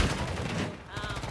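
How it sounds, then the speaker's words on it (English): Call of Duty combat with dense, continuous rattling gunfire filling a brief moment, loud and close over a noisy battlefield backdrop. "Taking effective fire."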